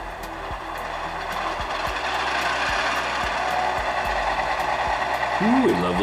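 Model diesel locomotives rumble to life with a steady mechanical drone and a regular ticking rattle that build slightly louder over several seconds.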